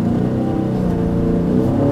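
A 2018 Dodge Challenger Scat Pack in sport mode pulls hard during a 0-60 run, its engine a loud, close, continuous low roar with no voices.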